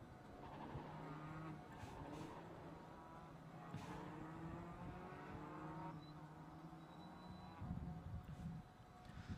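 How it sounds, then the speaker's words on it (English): Race cars idle and rev on the starting grid for a Swift Cup Europe race at the Hungaroring, a steady low engine drone with occasional blips, heard from a distance and fairly faint. "So the cars are lining up on the starting grid"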